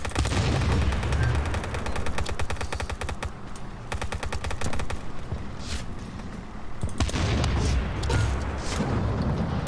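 Rapid bursts of 40mm Bofors anti-aircraft cannon fire in the WW2 game Total Tank Simulator, loud repeated thumping shots in dense volleys with booming explosions, continuing almost without pause.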